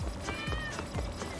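Short game cat meows from Lost Judgment, a couple of soft calls over busy background game sound and light footfalls, moderately close.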